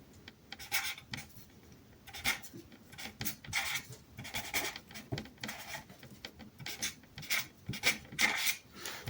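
A pen scratches and rubs across paper in short, close strokes of uneven rhythm, writing a name and birthday on a candle-magic petition in a quiet room.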